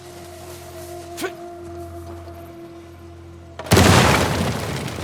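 A dynamite charge blasts a door open in the Uncharted 4 video game, one sudden loud boom near the end followed by a roaring rumble, after a quieter stretch of low tones and a brief sharp crack.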